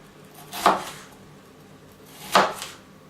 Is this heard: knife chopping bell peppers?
yes